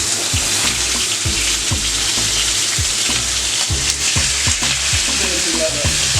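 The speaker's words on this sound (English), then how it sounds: "I just re-season it with salt and pepper, and then just slowly insert it in the pan," Pork tenderloin, seasoned with salt and pepper, sears in a hot pan with a loud, steady close sizzle, broken by repeated scraping and tapping as the meat is moved for a Jamaican Christmas roast dinner.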